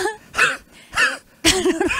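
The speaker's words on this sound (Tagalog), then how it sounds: "Grabe itong ubo ko." Three harsh, hacking coughs close to the mic, spaced by short pauses, with the last one breaking into a rougher, drawn-out fit.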